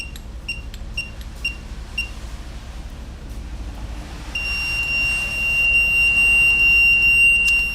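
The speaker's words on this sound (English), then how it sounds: "Fired off the alarm." A lock's alarm goes off during reprogramming: a run of short evenly spaced beeps gives way to a loud continuous high-pitched electronic tone that keeps sounding to the end, with a low room rumble beneath.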